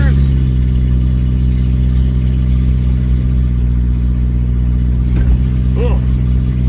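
Engine of a 1986 Toyota Tercel 4wd wagon with an automatic transmission, steady close drone from inside the car as it pulls through the gears, a voice talking briefly near the end.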